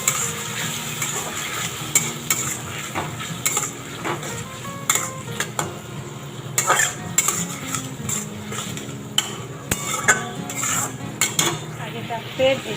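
Food being stirred in a pan with soy sauce and tomato ketchup, a spoon repeatedly scraping and clanking against the metal over a light sizzle, close and fairly loud.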